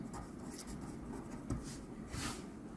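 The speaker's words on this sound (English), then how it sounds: "Let me write this down." A pen scratches out math solutions on paper for a Pure Mathematics exam question, with continuous soft scratchy strokes and occasional taps, close and quiet, and no talking over it.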